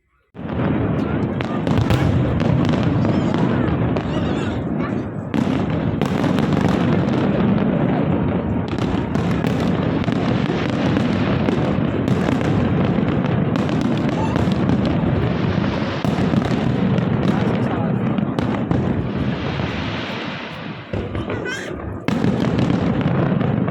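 Fireworks burst over old Dubai near the Alseef spice bazaar in a dense, loud, continuous barrage of bangs and crackles lasting over twenty seconds, with crowd voices mixed in.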